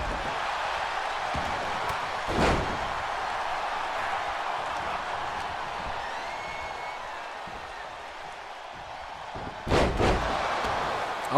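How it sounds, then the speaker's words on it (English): Wrestler slammed to the mat in a WWE 2K23 Royal Rumble match, two sharp heavy thuds several seconds apart over a steady arena crowd murmur. "Oh my goodness, and Nico Bellic just got slammed."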